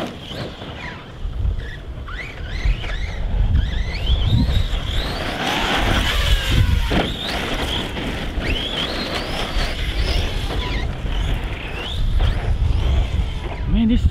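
A CEN Reeper RC monster truck's electric motor whines and revs as it drives, rising and falling in pitch over rough ground, with someone talking and wind noise throughout.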